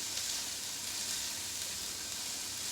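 Onions cooking in olive oil for a roasted pork ragu give off a steady, soft sizzle that holds at an even level throughout, with a faint pop near the end and no talking.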